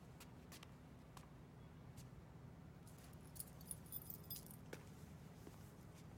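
Car keys jangle and clink in irregular bursts, close and moderately loud over a steady low rumble of background noise.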